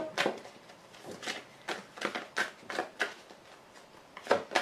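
A deck of tarot cards is cut and shuffled by hand in a series of close, brisk riffling bursts spaced roughly every half second to a second, with no talking.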